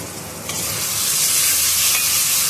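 Spice masala sizzling and frying in a pan outdoors while being stirred, a steady close hiss that swells louder after a brief stir and holds throughout, with no talking.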